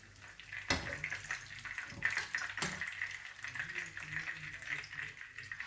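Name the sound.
chapli kebabs frying in a pan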